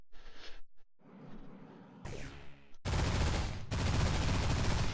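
Ship weapons firing in the space game Destination Sol, a loud sustained barrage of bursts that starts midway and continues to the end, preceded by softer whooshing effects.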